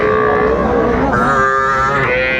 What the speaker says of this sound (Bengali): দেখছিলেন এখানে পাঁচটায় বার্মা গরু বেশ কোয়ালিটি সম্পন্ন বাচ্চাগুলো মেজবাবুল ভাইয়ের কালেকশন